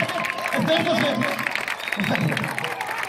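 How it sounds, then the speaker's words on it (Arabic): Loud applause from a school audience for student actors in a primary school theatre production, dense clapping with crowd noise and babble throughout, mixed with voices. "تصفيق عالي لهم"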